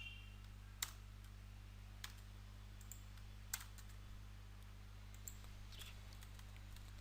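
Sparse, faint clicks of keys pressed on a computer keyboard, a Ctrl S shortcut, with a few isolated taps spread over a quiet, steady background hum.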